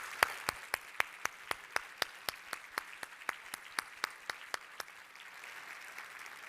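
Slow, steady rhythmic clapping of about twenty sharp claps, likely a small group in unison, honoring elected officials and dignitaries at a breakfast event, fading out near the end.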